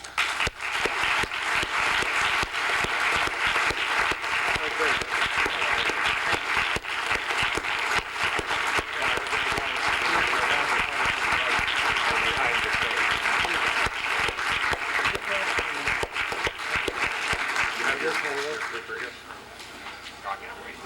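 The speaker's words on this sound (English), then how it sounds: "please everybody join me in applause" Long, sustained applause from a lecture audience greeting the speaker of a 2002 economics lecture, a full steady roar of clapping that tapers off near the end, with voices underneath.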